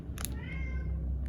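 An elderly cat with a tumour growing on its tongue lets out a single drawn-out meow, fairly faint against a low steady background hum.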